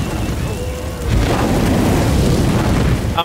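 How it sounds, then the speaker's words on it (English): Molotov cocktails burst into flames in the Left 4 Dead 2 video game, a loud, deep whooshing roar that swells after a second and holds steadily as the fire burns. "I'm throwing Molotovs at the entrance."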